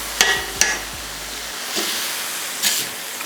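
Chicken fajita meat sizzles on a flat top griddle with a steady hiss, broken by several sharp spatula clanks and short bursts of louder sizzle as the meat is flipped.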